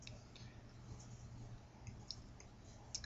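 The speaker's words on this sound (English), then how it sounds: "Click the checkbox again to turn each of these layers off." Computer mouse clicks on a mapping program's layer checkboxes: a few faint, sharp ticks spaced across a quiet background.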